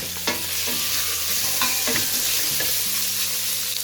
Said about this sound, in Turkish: Isınan tenceremize kemik etlerimizi ilave ettik.